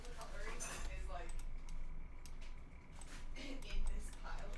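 Metal cutlery clinks and rattles softly in a pile, a faint, irregular jangle of utensils with quiet murmuring voices in the background.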